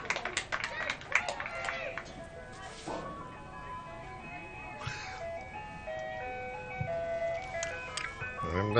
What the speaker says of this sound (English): I'm not sure if you can hear that in the background, but that's the sounds of summer here in fall. Ice cream truck.